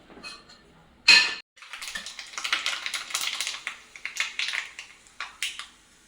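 Rapid crackling and popping of mustard seeds in hot oil, irregular sharp ticks in quick bursts after one louder pop.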